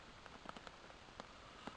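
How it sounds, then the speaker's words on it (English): Rain patters on a hammock camp in the morning, with scattered drops striking the tarp above a soft, steady wash of rainfall. "It rained pretty much from the time I went to bed."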